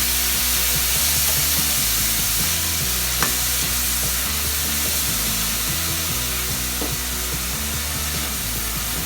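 Onions sautéing in a pan for tomato thokku, a steady close sizzle and fry with occasional stirring scrapes, continuous and loud throughout with no talking.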